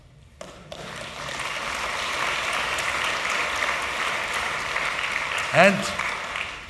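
Audience applause at a keynote event in Bonn, a steady mid-level crowd clapping that holds throughout, with a brief voice near the end.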